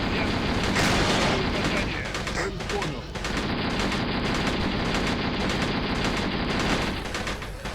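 Gunfire from an enemy in a building in Steel Armor: Blaze of War, fought in Afghanistan around a T-62 tank: dense, continuous crackling bursts of automatic fire and booms, loud and unbroken throughout.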